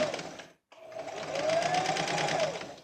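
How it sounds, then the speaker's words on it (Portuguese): A sewing machine stitching a flared skirt panel, a close, loud whirring run of stitches with a brief stop near the start, then a sustained burst that rises slightly in pitch. "Aí eu começo a minha costura."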